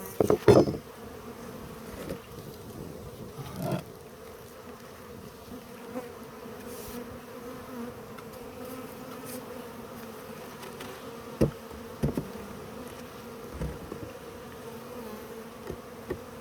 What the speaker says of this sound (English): the bees and stuff are lying around me. They're buzzing.